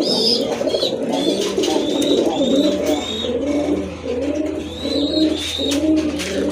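Rajgolla pigeons with sky-blue markings cooing close by, repeated soft rounded coos in a steady rhythm, with a few higher chirps over a low background hum.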